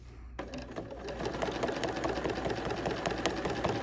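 A sewing machine quilts an embroidery sampler block, stitching at a close, steady, rapid pulse that starts after a brief click and runs continuously to the end.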